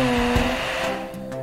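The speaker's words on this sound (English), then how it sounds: "Finally, a dryer to finish it off." A cartoon car wash dryer blows a steady, rushing stream of air, loud and continuous with a faint hum, alone and without talk.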